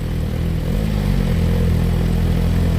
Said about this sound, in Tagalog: So yan po yung actual exhaust sound ng ating Suzuki GSXR 1000R.